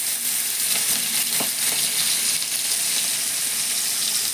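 Onions dropped into hot oil with white cumin in a wok sizzle loudly and continuously, with a few sharp crackles and spits early on and no one talking.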